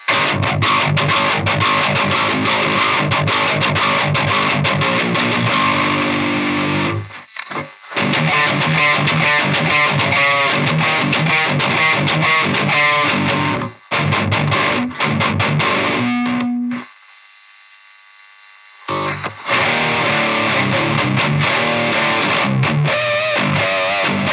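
Heavily distorted electric guitar plays metal riffs through a small Harley Benton Mighty 15 amp pushed to its max with a Dirty Tree boost pedal, loud and buzzy, with a few abrupt pauses and one sustained note.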